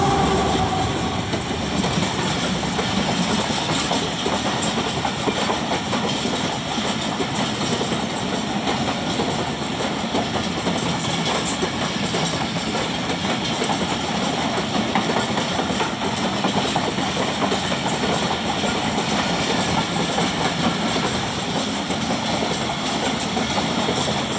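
The Pakistan Express passenger train from Rawalpindi to Karachi rolls past in a continuous loud rumble of wheels and carriages, with faint rhythmic clatter over the rails throughout.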